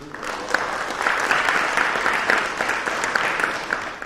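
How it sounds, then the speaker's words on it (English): Audience at a village trustee debate applauds in a full, sustained round, dense and even from start to finish. "Give them a round of applause."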